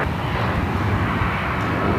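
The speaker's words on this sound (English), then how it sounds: "This is Southwest Airlines flight 1355 heading to Las Vegas on a 737-8." Southwest Airlines Boeing 737-8 jet taking off at Phoenix Sky Harbor, a steady loud roar of engine noise holding through the whole stretch with no voices.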